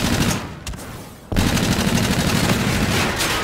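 Sustained automatic machine-gun fire in the shooter game Infinite Warfare, loud and dense, with a short break just before the rattle resumes at full force.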